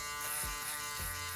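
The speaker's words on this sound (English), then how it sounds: "sometimes using an Uno or a single foil electric shaver makes it just a little bit easier" Single foil electric shaver buzzing steadily up close during a haircut, a constant whine with two short dips where it presses against hair, no voices.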